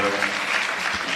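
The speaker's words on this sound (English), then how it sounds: "Another round of applause, ladies and gentlemen, for" Audience applause at a breast cancer symposium in Jamaica, a dense, steady patter of clapping throughout the short moment with no clear gaps, loud and close.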